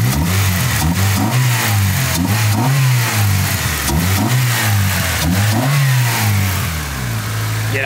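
Abandoned Honda Civic with a D16 engine runs loud and rough, its revs swelling and falling in repeated pulls over a steady throaty drone, close by and with no talking.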